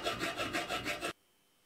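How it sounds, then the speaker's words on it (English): A hand file rasps along the edge of an iron square tube, about six quick rhythmic strokes, close and scratchy, then abruptly stopping into silence. "The edge of the iron square tube is filed,"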